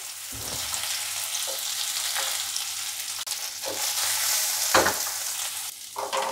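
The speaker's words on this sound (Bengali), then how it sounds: "তেলটা গরম হয়ে গেছে। এবার এগুলোকে আস্তে করে এতে ছেড়ে দেবো।" Boiled potato balls fry in hot oil for an Indo-Chinese potato balls Manchurian starter, giving a steady, fairly loud sizzle with a few brief bursts of bubbling and spatter throughout.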